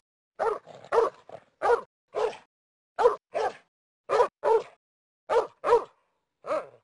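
A man imitates a shepherd dog with his voice, giving about a dozen sharp, loud barks in short pairs and singles separated by brief silences, close to the listener.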